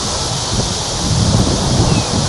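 An incoming storm with steady wind roaring and rushing close to the microphone, a low rumble of thunder swelling underneath, continuous and fairly loud without any voices.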